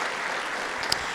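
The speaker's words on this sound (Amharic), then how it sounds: "እስኪ አጨብጭቡ ለአምላካችሁ።" A church congregation at a Protestant gathering claps together in a dense, steady wash of applause that fills the room.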